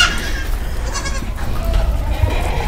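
Pure Boer goat kids bleat repeatedly at a goat farm in Poona, their wavering cries loud and close, overlapping against farmyard background noise.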